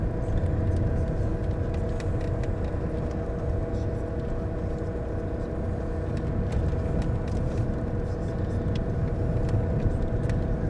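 A car rolls along a badly potholed rural road, a continuous low rumble of engine and road noise with faint knocks from the uneven surface, holding at an even level throughout.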